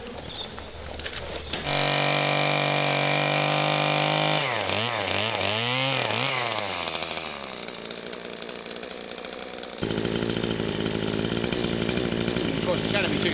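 A chainsaw roars loudly nearby, its engine revving up and down as it cuts into a house balcony, with brief talk in the background.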